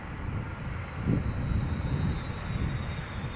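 A KLM jet at Amsterdam Schiphol Airport produces a steady low engine roar, a broad rumbling drone that holds at constant loudness without speech.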